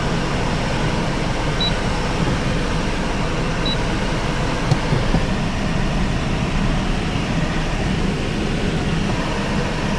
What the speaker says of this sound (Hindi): एसी फुल है।